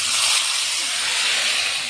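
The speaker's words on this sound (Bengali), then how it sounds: "এবার তেলের মধ্যে মাংসটা দিয়ে দেব।" Marinated meat goes into hot oil, a loud, continuous sizzling hiss that stays steady for about two seconds with no voices.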